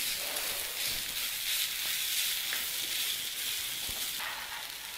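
Chopped onions frying in hot oil for wheat rava upma, a steady, moderately quiet sizzle and crackle that holds evenly throughout with light stirring noises.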